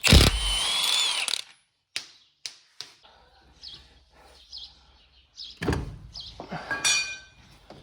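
Ratchet working on the 30mm drive shaft nut of a VW Transporter T5 during a wheel bearing job, heard as a loud burst of clicking and clatter, then a run of separate clicks and shorter ratcheting bursts close by.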